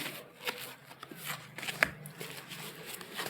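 Tarot cards being shuffled and laid out by hand, a soft continuous riffle and slide of card stock with occasional sharper flicks and taps, close up and fairly quiet.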